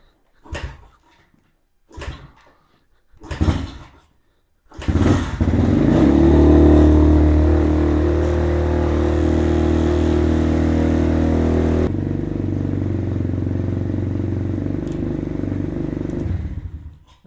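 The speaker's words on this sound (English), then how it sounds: "I like to start it up and run it through, get it all mixed up in my carburetor" A Venom Thunder 125 motorcycle with a carburetor, left sitting through winter: three short cranking attempts, then the engine catches and runs at a steady loud idle, dropping slightly in pitch partway through before it cuts off.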